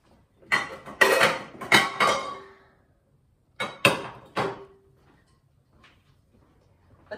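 A bowl being fetched and set down in a kitchen while making acorn-flour crepes, two clusters of sharp clattering knocks, the first longer, separated by quiet, close and clear.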